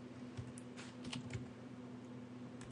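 Typing on a computer keyboard while working in Reaper audio software: a quiet run of irregular key clicks over a steady low electrical hum, with no talk.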